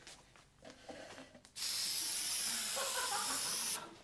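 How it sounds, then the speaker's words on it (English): Antibacterial disinfectant spray hisses from a can onto a chair in one loud, sustained burst lasting about two seconds, after some quiet handling noises. "Disinfectant. Antibacterial spray."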